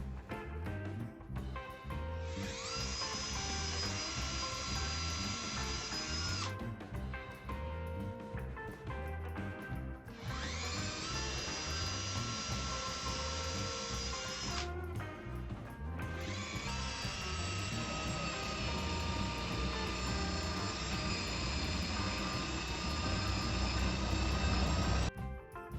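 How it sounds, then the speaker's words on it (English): Power drill boring start holes, then a jigsaw cutting out a large opening for a cat flap, in three long loud bursts of steady high whine and buzzing, the last one running longest. "get my drill the holes and some start off holes for the jigsaw"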